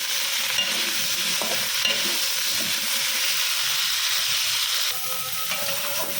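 Cauliflower frying in a pan, a loud continuous sizzle with hissing steam and occasional scraping stirs, steady from start to finish with a brief change near the end.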